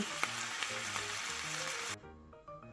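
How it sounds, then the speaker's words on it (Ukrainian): A close, steady sizzle of goose meat frying in oil in a hot pan over high heat, loud and hissing for about two seconds before dropping off sharply. "обсмажуємо м'ясо з усіх сторін на великому вогні"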